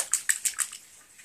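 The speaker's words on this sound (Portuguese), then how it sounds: "Eu estou aqui, olha, pisando na água." Footsteps splash through rainwater in a street after heavy rain in Ipatinga, four quick, evenly spaced wet slaps close by, then fading into a soft watery wash.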